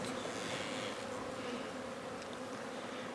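Honeybees buzz inside an opened beehive during electric winter heating, a steady dense hum that holds at a moderate, even level throughout with no talk.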